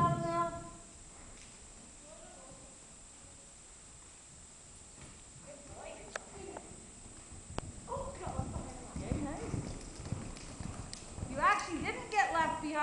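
A horse being ridden at a trot during a riding lesson gives a rhythmic clip-clop of hooves, moderately close, that grows busier toward the end. An instructor talks over the hoofbeats throughout.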